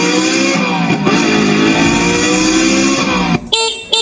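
Electric bike horn sounded in a close, loud, continuous blast with a harmonic tone for over three seconds, then cut off into a few brief, quieter honks.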